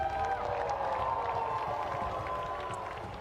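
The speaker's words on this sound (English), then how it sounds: "Round of applause, everyone," Applause and cheering from an esports watch party audience at a playoff finals event on stage, a steady crowd roar throughout at moderate volume with some faint talk mixed in.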